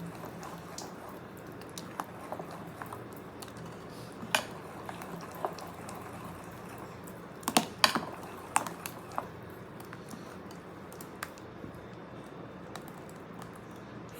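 Tomato dosa batter with salt, coriander leaves and curry leaves being stirred in a bowl, giving soft scraping and scattered light clinks of a utensil against the vessel, faint and irregular throughout.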